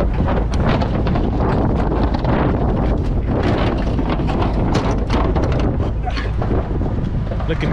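Strong gusts of wind buffet the microphone in a constant roar, rising and falling in bursts throughout, with a vehicle rumbling underneath.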